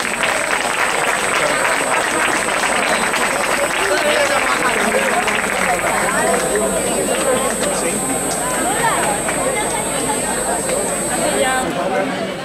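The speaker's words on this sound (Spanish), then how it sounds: "Un fuerte aplauso para ellos." Sustained crowd applause at a religious brotherhood concert in Granada with a marching band, steady dense clapping mixed with crowd babble for the whole stretch.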